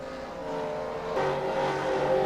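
NASCAR stock cars in the NASCAR Racing 2003 game roar at speed, a steady engine howl that swells as another car's engine joins partway through, with no talking.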